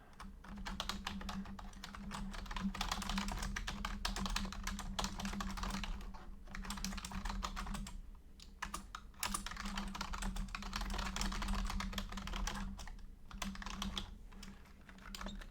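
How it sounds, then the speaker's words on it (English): Continuous rapid clicking of typing on a computer keyboard, close and steady, with brief pauses and a low hum underneath. "Typing."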